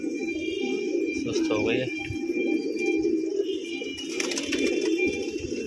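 Pigeons coo softly on a home rooftop loft, with one bird seeming sick, under steady close talk and a constant background hum.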